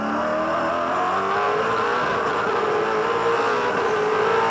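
A V8 Supercar racing at Pukekohe in 2006 accelerates hard out of a slow corner, its engine note climbing steadily as a loud, continuous roar with a trace of tyre noise.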